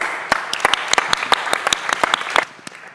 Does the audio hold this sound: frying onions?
no